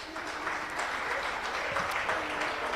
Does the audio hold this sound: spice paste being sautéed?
no